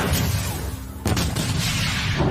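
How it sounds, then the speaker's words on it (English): A loud magical explosion spell effect from the Konosuba anime, rendered as a dense roaring blast. It fills the whole stretch with a sharp crack partway through and a rumbling, crackling wash of sound, and no one speaks. "Explosion!"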